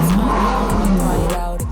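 A car engine revs as a sound effect in a pop song track, a short loud throaty roar with rising pitch sweeps over music.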